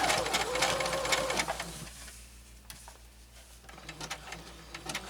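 A sewing machine stitching a mat made from old jeans runs in a fast, steady whir for the first second and a half, then stops, leaving quiet room noise with a few faint clicks.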